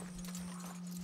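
A horse's hooves clip-clop in a quick, even rhythm in the video game Red Dead Redemption 2, close and clear over a steady low electrical hum.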